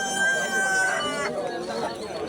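A rooster crows once at the Margilan bird market, a loud, clear crow lasting about a second that then trails off, with market voices and bargaining around it.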